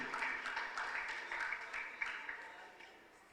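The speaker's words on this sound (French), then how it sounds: "vous allez applaudir pour son arrivée" Audience in a school quiz contest hall, Collège Immaculée Conception versus Collège de l'Étoile, applauding a contestant's arrival: a steady wash of hand clapping from a crowd, moderately faint and fading toward the end.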